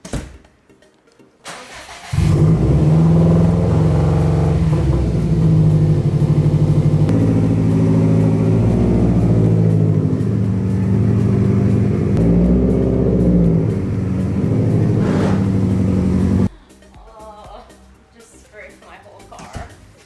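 A car engine starts and runs at a steady idle with slight revving for several seconds, then cuts off, leaving quieter shuffling noises.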